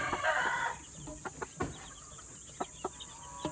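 A hen clucks near a freshly laid egg at a Subic building site, a few faint, widely spaced clucks with a brief louder squawk at the start.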